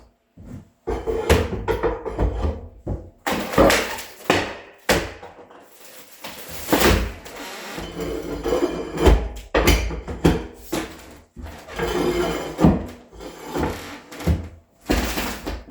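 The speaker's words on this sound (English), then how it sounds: "Found something better, the floor scraper right here." A floor scraper pries and tears away old subfloor in a laundry room. Irregular heavy thunks, cracks and scraping bursts come close by, separated by short pauses.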